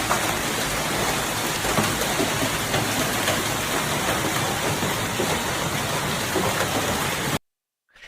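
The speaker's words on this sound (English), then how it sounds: "It's a jackpot of hail, like pea size or dime size." Hail about the size of peas or dimes pours down in a dense, loud, continuous hiss and patter for over seven seconds, then stops abruptly.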